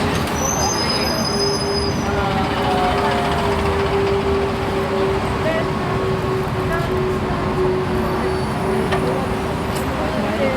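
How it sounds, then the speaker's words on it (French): Blue city buses passing on a wide Seoul street by a large pedestrian crossing: steady, loud engine and road rumble with a droning tone and a faint squeal, in busy urban traffic ambience. "Là, il y a des bus qui passent, ils sont bleus."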